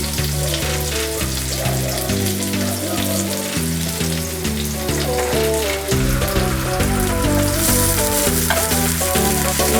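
Chopped onions frying in hot oil over a medium flame: a steady, close sizzle runs throughout, partly masked by louder background music with a rhythmic melody.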